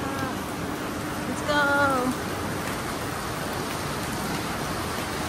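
Steady rain falls on an outdoor spot, a constant hiss close to the microphone with no letup, while a voice speaks briefly partway through.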